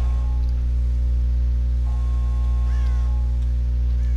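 A crow caws in the Dead by Daylight horror video game, a brief, moderately distant call over a constant loud, low droning ambience with no talking.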